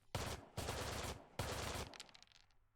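Gunfire from the Valor and Victory Arnhem WWII tactical video game: three dense, loud bursts of game gunshot effects in quick succession, the last trailing off into a fading rattle, with no talking.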